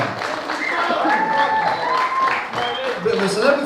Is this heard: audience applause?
yes